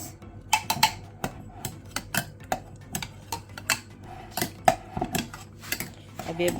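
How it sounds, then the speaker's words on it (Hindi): Custard stirred with a spoon in a bowl, giving quick irregular clinks and scrapes of metal on the dish, close and clear, with faint background sound and no talking. "अब इसको कर देते हैं अच्छी तरह से मिक्स"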